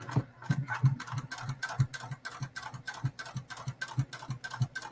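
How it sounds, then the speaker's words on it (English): A sewing machine backstitching along drawn lines on fabric, its needle ticking in a fast, steady rhythm close by with no voices. "And because I drew those lines, I'm sewing right on it."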